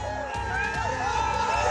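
Party workers celebrate a municipal council president candidate's election win with Minister Bharat Gogawale joining in, a dense crowd roar of cheering and whoops rising steadily and staying loud throughout.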